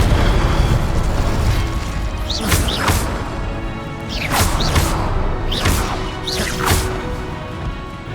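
Fiery spell blasts erupt in the video game Hogwarts Legacy as Incendio is cast, with several loud whooshing bursts and booms standing out over a rumbling, continuous combat backdrop.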